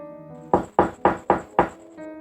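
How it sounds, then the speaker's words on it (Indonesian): Five hard, evenly spaced knocks land on a door in a house built of woven bamboo panels, each blow sharp and close. Soft tonal music plays quietly underneath. "Seseorang menggedor pintu rumahku dengan keras sekali."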